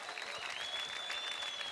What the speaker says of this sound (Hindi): जोरदार ताली से स्वागत करी जा